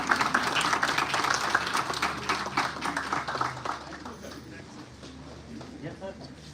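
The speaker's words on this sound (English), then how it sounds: "Give a huge round of applause," Students applaud at a university event, clapping that starts loud and dense and then thins out and fades toward the end, with talk mixed in underneath.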